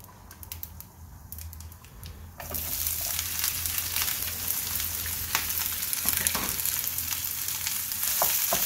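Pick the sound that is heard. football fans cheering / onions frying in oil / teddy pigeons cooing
onions frying in oil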